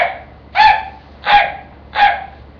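A voice or caller imitates the short, yelpy bark of a red fox pup, three sharp high barks evenly spaced about a second apart, close and clear against quiet.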